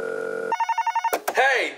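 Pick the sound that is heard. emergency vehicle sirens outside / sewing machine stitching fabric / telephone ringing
telephone ringing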